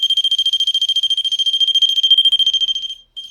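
Rapid electronic beeping from a ghost hunting detector, a steady high-pitched pulsing tone repeating many times per second, loud and close, cutting off briefly near the end.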